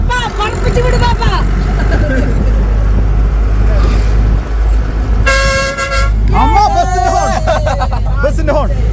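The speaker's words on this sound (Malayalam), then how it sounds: "ബസിന്റെ ഹോൺ." A bus horn sounds a loud, harmonic blast of about a second midway, heard from inside a vehicle on a winding forest road. People talk and chatter before and after it over constant road rumble.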